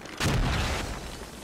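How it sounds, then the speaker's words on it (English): Mortar fire in the video game Squad, a single deep boom that starts abruptly and rolls off with a long low rumble, fairly close and alone. "You hear them shoot the mortar"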